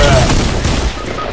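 A dragon shotgun in a video game fires in a dense burst of gunfire, loud and close, with voices talking over it.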